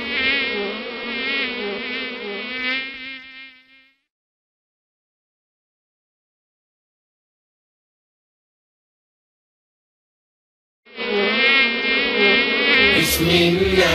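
A buzzing bee sound effect in an Arabic children's song about a bee comes in two dense, close bursts of insect drone, separated by a long silence.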